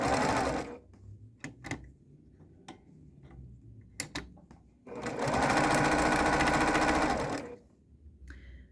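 A sewing machine stitches fabric for a pillow case in short bursts, then one longer steady whir, with quiet ticking clicks of the mechanism between runs, heard close up.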